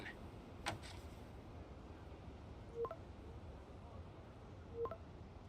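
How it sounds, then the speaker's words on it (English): Faint electronic tones chirp three times at roughly two-second intervals over a quiet background hum, like a distant phone ringing; a phone in a video game. "Sounds like somebody's phone."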